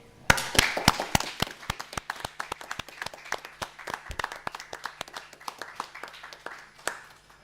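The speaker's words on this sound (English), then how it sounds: "a big round of applause" Small audience at a panel discussion on decriminalising same-sex acts in Asia and the Pacific gives a round of applause, sharp individual claps from a modest group, scattered and irregular, thinning out toward the end.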